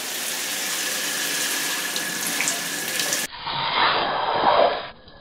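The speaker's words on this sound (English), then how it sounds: "First up, a shower test!" Shower water sprays hard and steadily onto a cheap camcorder, a loud continuous hiss that abruptly turns muffled and uneven partway through, then cuts off.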